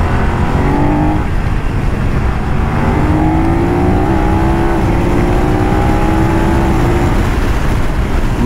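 A BMW F900R motorcycle engine pulling hard under acceleration on a test ride, a loud, continuous rising engine drone with climbing pitch through the gears, close and alone over rushing wind.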